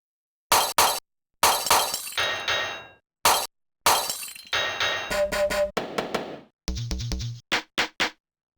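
Glass-shattering hits from the 1985 Sequential TOM drum machine's DW Hip Effects cartridge burst out in a series of sharp crashes and tinkling breaks, ending with quick glitchy repeated stabs, close and loud with no talk.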